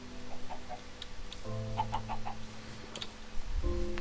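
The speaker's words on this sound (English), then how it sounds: "We have chickens." Chickens in Minecraft clucking in short, repeated bursts over a steady game background hum, with a few light ticking sounds mixed in.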